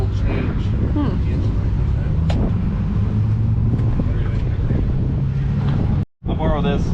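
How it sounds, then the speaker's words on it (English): A car engine with cylinder 4 misfiring idles roughly and steadily throughout, its uneven running partly masked by wind buffeting and voices talking nearby, with a brief dropout near the end. "Cylinder 4 is misfiring."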